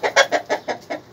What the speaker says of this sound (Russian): Понравились мне эти курки, красненькие несушки, Лама Браун